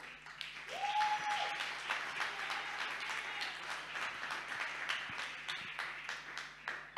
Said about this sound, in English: So an applause to them as well